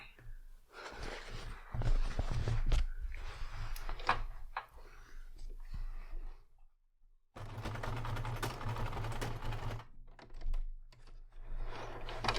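A sewing machine stitches a fabric tote bag in close, loud bursts of fast mechanical rattling over a low motor hum. A short pause separates two runs of stitching.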